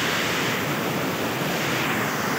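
Steady broadband rush of a waterfall, continuous and fairly loud with no voices.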